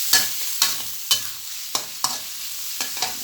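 Mixed vegetables with pork and shrimp stir-fried in a pan, heard as sharp, evenly spaced scrapes and tosses of a spatula over a soft sizzle, about seven strokes, close and alone.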